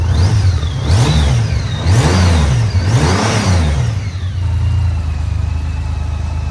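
A 2018 Honda F6C 1800cc six-cylinder motorcycle revs repeatedly, its engine swelling and falling in three or four smooth, deep throttle blips before settling to a steady idle, close and loud.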